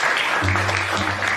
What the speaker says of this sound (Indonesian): Berikan tepuk tangan dong buat Ananta.